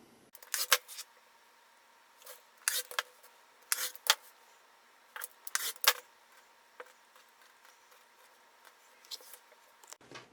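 Rotary or straight blade slicing through a fabric panel on a cutting mat, heard as a series of quick, close, crisp cuts in irregular bursts with quiet gaps between them.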